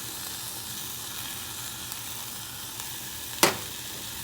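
Sliced onion rings sizzle in a pan with sugar just added, a constant close hiss broken by one sharp clink of a utensil near the end, with no talking.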